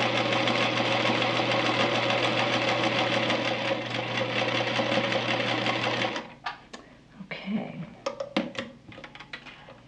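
Sewing machine running steadily while stitching a quilt block for an hourglass pattern, a continuous loud hum for about six seconds, then stopping, followed by quieter fabric handling and small clicks.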